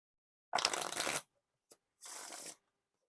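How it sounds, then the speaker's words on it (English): Bicycle Titanium playing cards riffle-shuffled: a quick crisp flutter, a brief tap, then a second smoother riffle, close and alone. "Now for the riffle shuffle or bridge shuffle."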